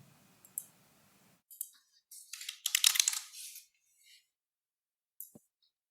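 Keys clatter on a computer keyboard while a command is entered in a Windows command prompt, coming as a few short bursts of close, crisp clicks with gaps of silence and a lone tap near the end.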